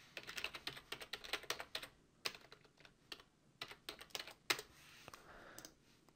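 Rapid typing on a computer keyboard while writing networking code for an XNA 4.0 game, with uneven bursts of close, crisp key clicks and a few louder single strokes and short pauses in between, all without speech.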